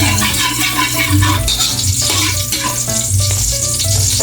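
Taro leaves for laing frying in cooking oil, a dense close crackling sizzle with stirring throughout, loud and continuous with no talk.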